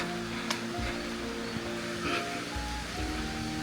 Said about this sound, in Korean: 계곡 물소리 아름다운 새소리